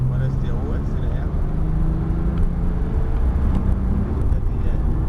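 Porsche circling the Montlhéry circuit, its engine a continuous drone with shifting pitch as it accelerates and slows, mostly masked by a steady voice talking over it.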